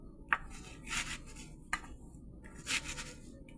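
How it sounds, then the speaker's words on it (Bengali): Hands rub mustard oil into a pangas fish, giving soft, close wet rubs and slaps in a few short bursts separated by quiet gaps. "সরিষা তেল দিয়ে মাছটা এখন মেখে নেব।"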